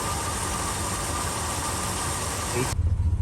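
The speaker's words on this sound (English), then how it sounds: "I know it's a vacuum leak because it's idling fine." A 1977 El Camino engine idles steadily with a constant mid-low rumble, then cuts to a quieter, uneven pulsing near the end.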